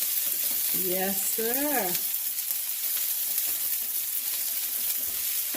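Trini-style curry chicken sizzles in a pot while being stirred and mixed, a steady loud frying hiss throughout, with a brief spoken reply early on.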